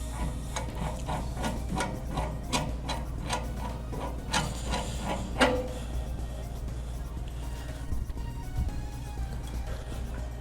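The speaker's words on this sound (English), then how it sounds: "We're going to get each bottle screwed in on there." SCBA air bottles are screwed onto a fill station, making a run of rapid, evenly spaced metallic clicks close by that stop partway through and leave a steady mechanical hum.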